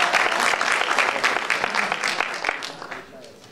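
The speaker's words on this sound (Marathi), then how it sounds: "टाळ्या वाजवलं थोडं." Audience applause at a Marathi poetry recital, steady dense clapping throughout that fades slightly toward the end, with some voices mixed in beneath it.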